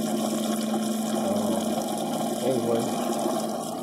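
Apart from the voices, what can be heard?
water flowing from a Yamaha outboard being flushed with a garden hose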